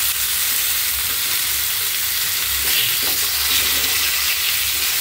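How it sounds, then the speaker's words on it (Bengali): Fish fries in a pan near the end of cooking after being turned over, giving a steady, loud, close-up hiss of oil sizzling without pause. "মাছ ভাজা শেষ পর্যায়ে আমার"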